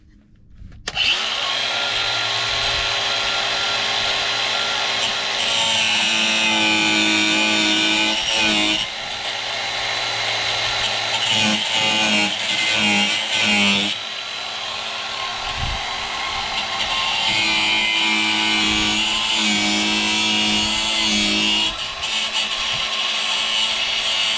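Power tools cut and drill through metal pieces for a utility trailer. A loud, steady motor whine runs almost unbroken for the whole stretch, with brief grinding shifts and dips along the way and no talking.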